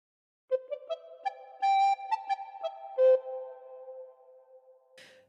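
Recorder playing the opening phrase of Oh Susanna, a clear run of about a dozen short and held notes with a few longer sustained tones, played alone and fairly soft, followed by a brief breathy noise at the end.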